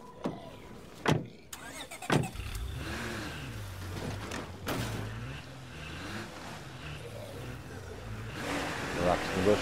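Car engine in the zombie survival game State of Decay 2, a steady low drone that rises and falls in pitch as the vehicle revs and accelerates, with sharp thumps early on and voices talking over it.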